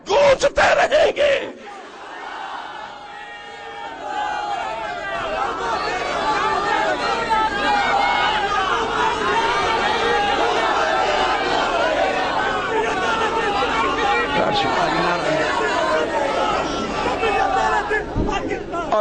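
Large crowd at a religious rally chanting slogans in unison, a sustained loud roar of massed voices after a brief amplified shout at the start, with chatter mixed in.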